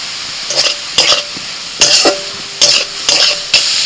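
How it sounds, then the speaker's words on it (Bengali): Bursts of loud sizzling as salted, turmeric-dusted prawns hit hot oil, pulsing every half second or so with stirring scrapes between. "যতটুকু চিংড়ি মাছ রেখে দিয়েছিলাম সেটা ভেজে নেব"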